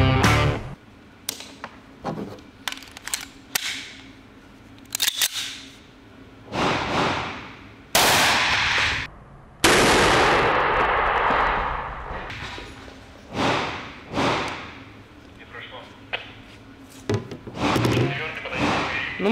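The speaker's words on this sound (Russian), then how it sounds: "Мы с соблюдением всех требований безопасности выстрел сделали" Sharp, loud Desert Eagle pistol shots and heavy metallic clacks ring out at irregular intervals, with handling thumps and clatter between them.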